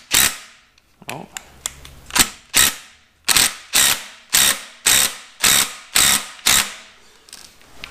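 A 3/8-inch ratchet turns a bolt on an LS engine during a turbo build teardown, clicking loudly and close in a run of about ten sharp, evenly spaced strokes after a few scattered ones.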